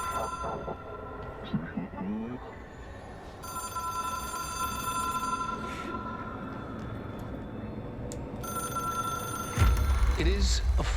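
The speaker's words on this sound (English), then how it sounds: "It is a phone. It's an object of power." An old telephone in the video game Control rings in repeated bright bursts over a low, humming game ambience, and a heavy thump lands near the end.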